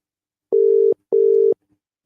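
Outgoing phone call tone while trying to reach someone at a football stadium: two identical steady beeps, each under half a second, separated by a short gap, clear and loud with silence around them.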